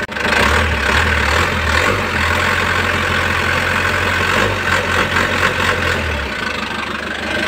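A car engine idles at its first start after four years of sitting, a loud, close, steady low chug with an even rhythm that carries on alone until the tone drops near the end.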